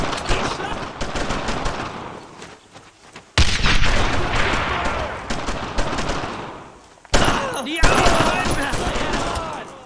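Gunfire in a retro tactical video game: dense bursts of automatic weapon fire and rapid shots rattle loudly across three sustained stretches, separated by brief near-silent cuts.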